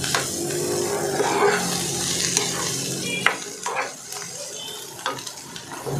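Flaked tambakol fish for sisig sizzles steadily in a hot pan while a utensil stirs and scrapes it, with clinking of metal against the pan.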